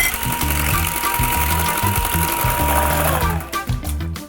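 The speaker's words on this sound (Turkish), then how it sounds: "Yaklaşık bu şimdi 3 katına kadar çıkana kadar ve biraz da beyazlayana kadar çırpacağım." A loud, close electric hand mixer whirs steadily as it whisks eggs and sugar for an orange cake, its motor droning with a fluttering, uneven beat and easing off at the end.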